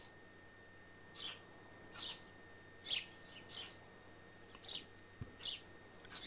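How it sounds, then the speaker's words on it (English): Birds in the Fate/EXTRA video game chirp in short, bright bursts about once a second, clear and fairly close against a quiet background hum, with no talking. "The birds are singing."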